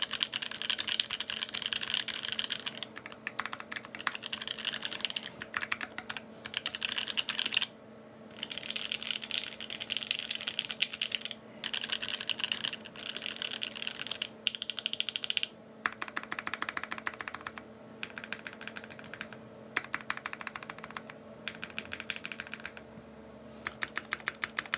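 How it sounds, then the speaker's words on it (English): Typing on a Think 6.5 V2 mechanical keyboard with a 1U layout, GMK Godspeed keycaps and Glacier Panda switches, giving a steady, poppy clack in close bursts with brief pauses between them. "I feel like my board pops a little bit more. There's more of that poppy sound."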